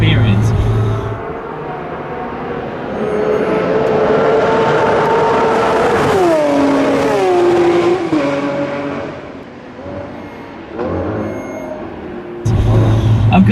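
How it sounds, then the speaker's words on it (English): A Lamborghini Aventador SVJ's naturally aspirated V12 engine revs loudly and climbs in pitch, with a sweeping rise and fall as it passes close by, then settles before another burst. "it truly sounds like a race car"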